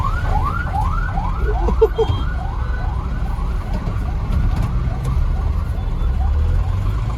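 An ambulance siren wails in repeated rising-and-falling sweeps, loud and continuous over steady traffic rumble, with no talk.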